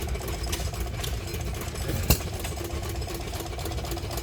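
An old Picnic engine runs at a tractor and engine show with a steady, even mechanical chugging hum, moderately near, and one sharp clank partway through.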